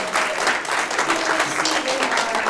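A school awards-ceremony audience applauds for the award winners, with sustained, even clapping from the crowd over a couple of seconds.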